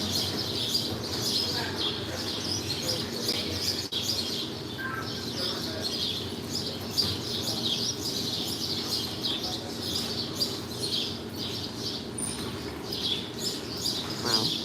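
Birds chirp and coo outdoors on a chilly, rainy morning, a steady mix of calls with occasional wing flutters, moderately close and continuous under faint background noise.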